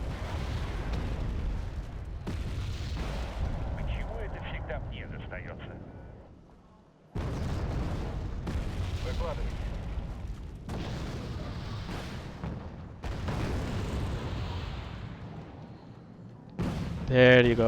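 Artillery fire and explosions in the real-time strategy video game Red Dragon, a dense continuous rumble of booms and blasts that carries on for long stretches, loud and close, with a brief lull, alone without talk.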